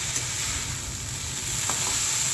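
Potatoes frying in hot oil in a home kitchen give a steady, close sizzle that holds evenly from start to finish with no talking.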